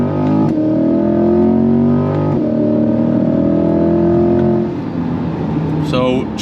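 2026 C8 Corvette Z51 accelerating hard from inside the cabin: a loud engine with steadily rising revs through a gear change, then a lighter, smoother pull as it settles.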